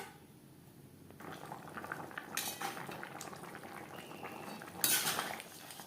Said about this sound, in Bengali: মশলা কষানোর সময় আলু পটল প্রায় সেদ্ধ হয়ে এসছে, 3-4 মিনিট গ্রেভি ফুটিয়ে নেব।